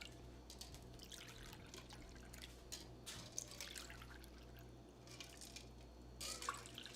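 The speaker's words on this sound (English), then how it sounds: "let me just pour out the lemon drop" Lemon drop martini poured out into several glasses, a soft continuous trickle and dribble of liquid with small splashy bursts, steady and fairly quiet over a low background hum.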